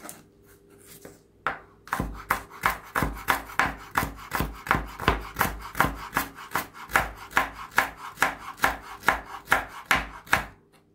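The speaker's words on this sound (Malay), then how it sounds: "Bunga kantan pun kita iris halus." Steady rhythmic knife chops on a cutting board as torch ginger flower is finely sliced, about twenty-five crisp, evenly spaced cuts, close and clear, beginning after a short quiet pause.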